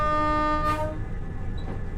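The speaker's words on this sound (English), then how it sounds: "Toot for the railway workers there." A snowbound Azuma train sounds its horn once in a rail simulation, a short clear multi-tone blast that cuts off quickly, leaving the rumble of the train running underneath.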